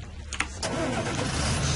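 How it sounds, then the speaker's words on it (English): A tractor engine in Farming Simulator 2013 cranks briefly with a starter whine, then catches and settles into a steady, rumbling idle that holds to the end. "let's start the tractor first."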